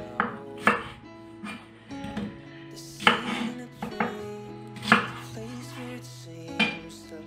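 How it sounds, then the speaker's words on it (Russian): A knife chops a large onion into thin strips on a board, several irregular close thuds and taps spread out with pauses between, no talking. "Далее беру одну крупную луковицу массой 150 грамм, нарезаю ее соломкой."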